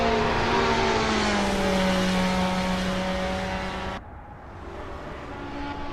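Onboard a Group C race car flat out down Spa's long back straight, a loud, sustained engine howl rising steadily in pitch, then cutting abruptly to a quieter, lower engine note near the end.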